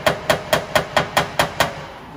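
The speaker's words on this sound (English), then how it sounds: "I'm gonna take the pick part of this hammer, I'm gonna hold on to it, the fender, just to steady it," Pick end of a hammer lightly tapping down a Honda Pilot fender during body repair, eight crisp, evenly spaced metallic taps, close and fairly loud with no talking.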